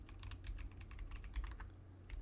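Rapid, light keystrokes on a computer keyboard, typing a banner message into router configuration, a quiet run of irregular clicks with no talk.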